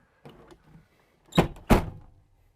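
A school bus roof hatch thunks shut twice in quick succession after a faint rattle, close by and fairly loud.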